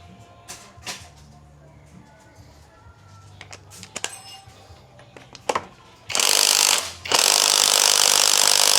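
Impact wrench on a 22 mm fitting of a Yamaha R3 front fork fires in two loud, close bursts of rapid hammering near the end, after scattered clicks and light tool handling.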